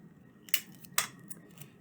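Aluminum foil handled for a craft boat: two sharp crinkling rustles close up, followed by a couple of softer crackles, quiet in between with no talk.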